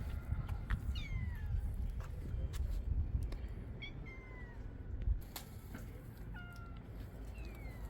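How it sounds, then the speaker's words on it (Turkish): Several cats meow in short, rising and falling calls over a low background rumble, scattered across the stretch, some nearer and some farther off. "Kediler de saldırıyor."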